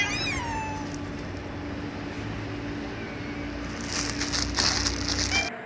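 A cat meows once at the start, its voice rising and falling over a steady low hum, followed by some crunching, rustling noise near the end.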